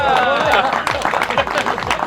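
Clapping from a group at a fishing competition, dense and steady, with voices talking over it throughout.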